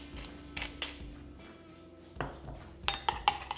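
A metal utensil stirs seasoned roast beef juices in a pan, giving a few soft scrapes early on and then a cluster of sharper clinks and taps near the end, close and fairly quiet with no voices.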